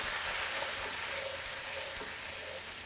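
A sauce of evaporated skim milk sizzles and crackles steadily in a hot pan, a soft continuous hiss with no voices.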